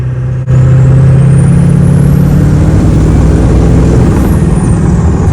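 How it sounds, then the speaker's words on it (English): An OBS Ford diesel truck drones loud and close with a deep, steady engine roar, while a thin rising then falling turbo whistle sweeps high above it. "enjoy the beautiful turbo sounds"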